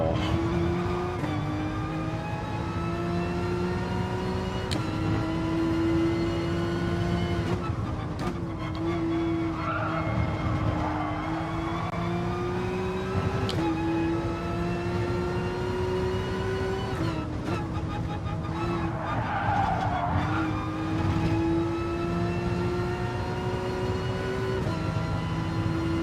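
A car in the racing game GT Sport spins out at Laguna Seca, its engine droning steadily with pitch swings and bursts of tire skid noise midway and near the end, continuous and loud throughout.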